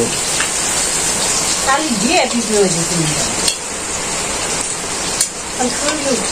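Small wetland fish fry in hot oil in a village kitchen, giving a steady hissing sizzle while a voice talks over it, with a few sharp clicks.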